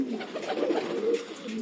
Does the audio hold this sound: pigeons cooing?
yes